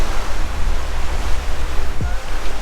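Sea surf at Silloth, Cumbria, near slack water with a settling sea, gives a steady broadband wash of waves with low rumble, close and continuous, mixed with some wind noise on the microphone.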